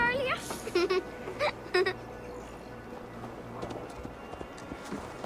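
Horse hooves clip-clop in Assassin's Creed Valhalla, soft and rhythmic under in-game voices and bird-like chirps, fading into a low background.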